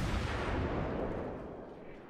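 A heavy naval gun blast from the cruiser Yorck firing armor-piercing shells in World of Warships, a single deep booming report that rolls and fades away over two seconds.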